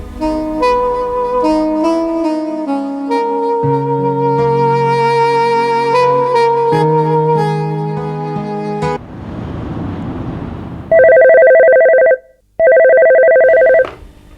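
After a stretch of music and a burst of noise, a telephone rings in a Pakistani drama, two loud, sustained electronic ring bursts separated by a brief gap.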